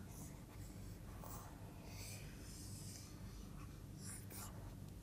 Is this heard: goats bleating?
no